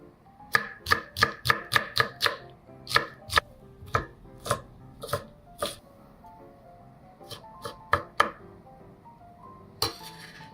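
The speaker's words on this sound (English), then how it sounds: "chopping noises are a little bit of a trigger noise for me in a good way" A knife chops food on a board in the VRChat game, a fast run of crisp wooden taps followed by slower irregular cuts with occasional clinking of utensils, close and distinct, no voices.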